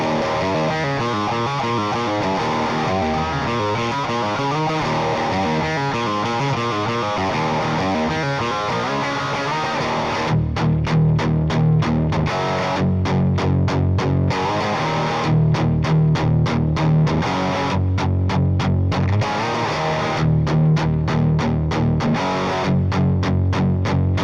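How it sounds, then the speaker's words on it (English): Distorted Les Paul electric guitar line recorded straight into a Motu 828X interface through the ToneForge amp plugin, loud and continuous, with rhythmic chugging and palm-muted stabs interrupted by short gaps in the second half. "here's the guitar line just as I recorded it. I used my Les Paul right into the main input of my Motu 828X interface"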